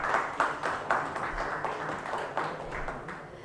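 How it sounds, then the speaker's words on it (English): Audience applause at an inauguration ceremony, a modest, fairly soft patter of clapping with a few louder bursts, fading slightly over a few seconds. "Please welcome him with a big round of applause."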